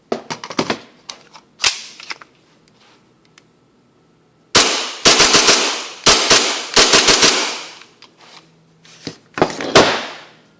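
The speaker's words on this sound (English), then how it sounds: "as you can see, the cycling rate is still very nice. The gun hits every shot" A custom Tokyo Marui Hi-Capa airsoft pistol fires in quick clusters of sharp, snappy pops, with single shots first and then rapid strings of several shots, close and loud with short silent gaps between.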